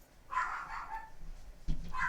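Dogs indoors bark at the neighbouring dogs outside, a couple of muffled, mid-distance barks and yips with a short whine between them, fairly faint and without talk.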